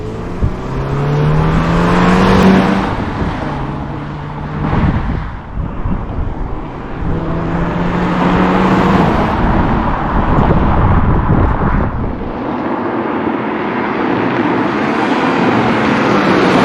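A 2024 Subaru BRZ tS sports car drives loudly along a twisty road, its engine note rising and falling through revs and gear changes, with heavy wind rush throughout.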